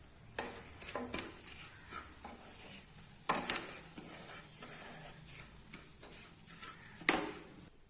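Green moong dal powder being stirred into semolina in a pan for halwa, a steady scraping and stirring with soft sizzling underneath and a few louder knocks of the spoon against the pan.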